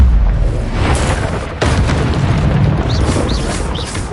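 Confringo blasting curse from Hogwarts Legacy going off as a loud, sustained booming explosion with a sharp burst partway through and crackling debris, alone with no talk.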